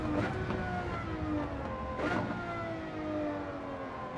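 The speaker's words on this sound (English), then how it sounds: "Engine note on this car is beautiful." A Lamborghini Murcielago LP640 in Gran Turismo 7 drones along at steady engine pitch, with smooth gear changes shifting the tone twice, heard faintly from the cockpit as it heads into the pits.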